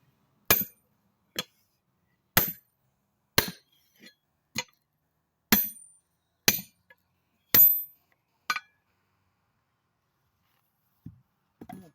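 Hammer striking a rusty split ring wheel, about ten sharp metallic blows at an irregular, slowing pace, each ringing briefly and then falling to silence.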